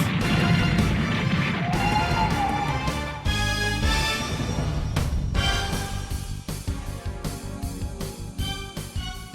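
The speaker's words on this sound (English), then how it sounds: "They're smashing right through the walls." Crashing and smashing through walls in an anime fight scene, a dense run of loud impacts and debris bursts over dramatic soundtrack noise, with repeated sharp hits.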